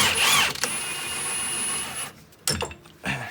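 A cordless 1/2 inch impact wrench backs out a nut on a Dodge Dakota lower ball joint, a loud close whirring burst for about two seconds, followed by a few short clanks.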